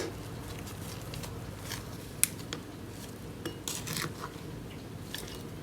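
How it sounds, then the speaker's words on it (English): A bentonite clay and activated charcoal face mask with aloe vera is stirred in a bowl, with scattered light clinks and scrapes of the utensil against the bowl over faint background noise. "To start stirring this in, we want to try and blend it in without getting it everywhere"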